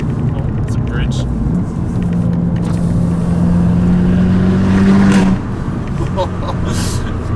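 Abarth 695 70th Anniversario exhaust note while driving, a steady engine drone that swells into a rising rev before dropping back, with talk over it.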